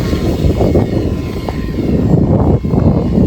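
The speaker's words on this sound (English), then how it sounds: "Because this one was pretty heavy, I got a really satisfying scale takeoff." A heavy 3D-printed RC model shuttle takes off with a steady loud propeller drone and engine roar, continuous and close, with no talking.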